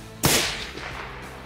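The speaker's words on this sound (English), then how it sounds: "Okay, shoot one more and verify" A single sharp rifle shot from a precision hunting rifle cracks loudly and close, followed by a short decaying echo rolling across open Kentucky country.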